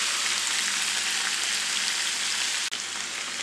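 Green tomatoes and green chillies sauté in a pan with a dense, steady sizzle, close and continuous, broken only by a single faint clink.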